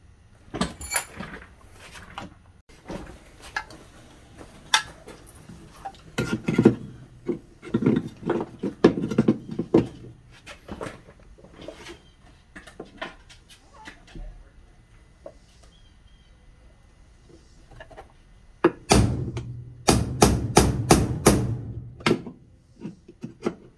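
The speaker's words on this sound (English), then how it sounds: "use a hammer and punch, and we'll punch these things out the top" Sharp metallic blows from a hammer and punch knocking bushings out of a Ford Escape thermostat housing strike in uneven bursts, with scraping and handling noises between them and a final rapid series of heavy knocks.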